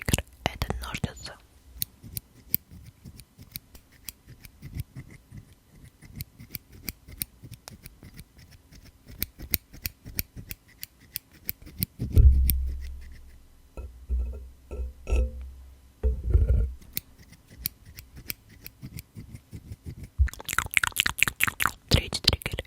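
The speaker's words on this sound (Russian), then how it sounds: "Второй триггер — это ножницы." Close, crisp scissors snipping repeatedly as an ASMR trigger, a dense run of sharp clicks with quieter stretches in between, accompanied by soft whispering and faint mouth sounds.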